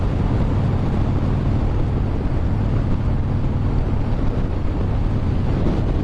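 A small motorcycle rides along a highway in Brazil, a loud continuous roar of engine and wind buffeting that stays steady throughout.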